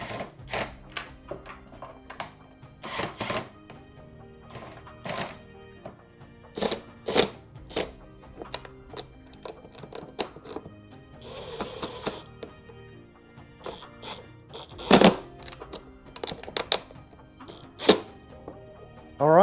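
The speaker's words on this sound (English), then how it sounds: "we're going to take our ratchet on one side here and our impact driver on the other" A ratchet and a Milwaukee M12 impact driver snugging a fastener down, heard as irregular bursts of sharp clicking and mechanical rattles separated by short pauses, with one denser whirring burst near the middle.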